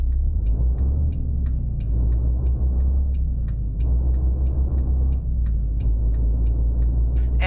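Steady, heavy diesel drone from a Volvo VNL truck engine sound mod in American Truck Simulator, a continuous close rumble with a faint regular ticking running over it.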